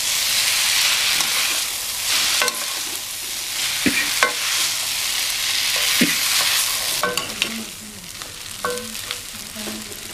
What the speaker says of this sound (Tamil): இது ஹை ஃப்ளேமில் தான் வேக வைக்கணும்.